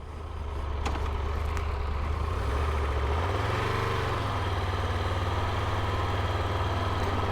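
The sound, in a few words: Triumph Tiger Rally Explorer motorcycle engine running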